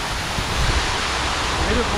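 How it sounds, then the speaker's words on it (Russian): A 6-metre waterfall in Aivazovskoe park, Crimea, spills over rocks, making a steady, full, close rushing roar of falling water that stays even throughout with no voices. "Вот тот самый 6-метровый водопад."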